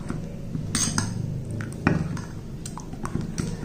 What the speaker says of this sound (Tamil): எல்லாத்தையும் மிக்ஸ் பண்ணிக்கிறோம்ப்பா